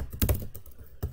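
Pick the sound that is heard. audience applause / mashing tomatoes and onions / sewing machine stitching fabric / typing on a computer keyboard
typing on a computer keyboard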